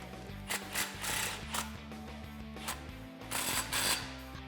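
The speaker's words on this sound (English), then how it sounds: "tighten down your clamp." A ratchet tightening an exhaust clamp on a 2009-2014 Dodge Challenger 5.7L during a Borla cat-back install, giving several bursts of rapid clicking strokes with short pauses between them, close up over a steady low hum.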